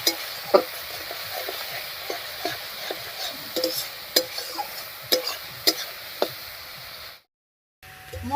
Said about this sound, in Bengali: মশলাগুলো দিয়ে খুব ভালো করে কষিয়ে নিয়েছি